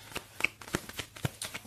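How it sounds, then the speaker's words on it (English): Tarot cards shuffled by hand give a quick series of soft riffling taps and slaps, about eight irregular bursts in under two seconds, close and fairly quiet. "I am the person who shuffles until something falls out"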